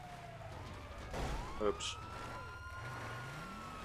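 Police car siren in Grand Theft Auto 5, a faint wailing tone rising and falling under road noise, with a brief spoken exclamation over it.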